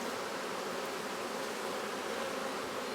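Honey bees swarming around an open, strong hive during an inspection, a dense, even buzzing hum that fills the air steadily and close by, with no voices.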